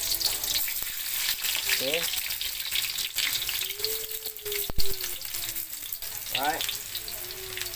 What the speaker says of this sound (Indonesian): Nampaknya minyak kita dah panas, kita boleh masukkan bawang putih.